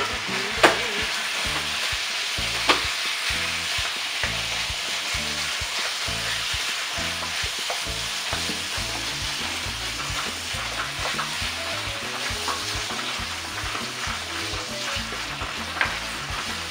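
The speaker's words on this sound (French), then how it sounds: "On va y rajouter nos émincés." Sliced chicken sizzles steadily as it fries in a pan, with a continuous loud hiss and a few sharp clinks of stirring utensils scattered throughout, and no talking.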